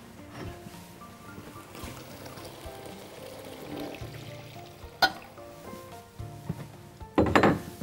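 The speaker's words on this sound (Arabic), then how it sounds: "نحط عليها شوية مية." Water is poured over chicken and eggplant in a pan, a brief gurgling splash near the end after quiet kitchen clatter and clinks of utensils.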